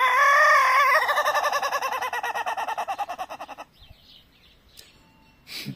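Ketawa chickens in their pen, one bird crowing loudly and close in a long pulsing call that breaks off, followed by a few faint clucks and rustles.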